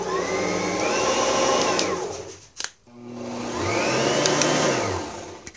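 An Oreck Conker upright vacuum cleaner runs loudly with a steady motor whine, winding down to a brief pause and click midway, then spinning back up to full power.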